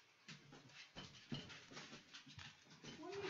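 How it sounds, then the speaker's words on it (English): A dog whimpers and pants softly nearby in a quiet indoor room, with short uneven breaths and faint whines. "Hold on, let me see what this dog is getting into."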